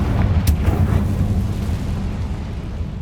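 A Confringo fire spell explodes in Hogwarts Legacy, a loud, dense roaring blast with a sharp crack early on, sustained rumble filling the whole moment.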